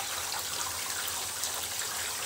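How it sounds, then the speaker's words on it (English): Steady jets of tap water pour into a bathtub used as a home washer for fiber photographic prints, a continuous hissing splash close by and fairly quiet, with no other sounds. "Sweet, glorious jet streams of water."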